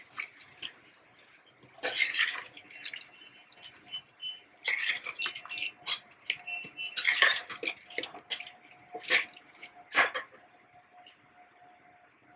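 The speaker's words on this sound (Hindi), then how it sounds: "चावल को भूनना बहुत जरूरी है, इसको अच्छी तरह भून लें।" Rice for Bengali bhoger khichuri is roasted and stirred in a metal pot, with intermittent scraping and clinking bursts every second or two, close and fairly loud, with no talking.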